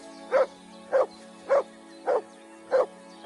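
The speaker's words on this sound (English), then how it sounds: "Good dog, Mats." Dog barking in the medieval role-playing game Kingdom Come II: six evenly spaced barks about half a second apart, close and clear over a steady low background hum.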